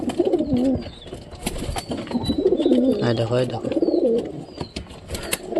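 Pigeons cooing close by in soft, repeated throaty burbles, mixed with a person speaking over them.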